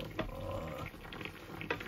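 Adobo bubbles and simmers in a pot with irregular soft pops and gurgles, fairly quiet and close, with no talking.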